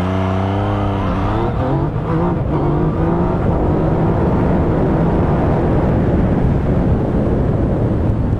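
A 2017/18 Yamaha MT-09 motorcycle with traction control on level 2 and the most powerful engine map revs briefly and then launches from a standstill, the loud engine note rising steadily through the gears.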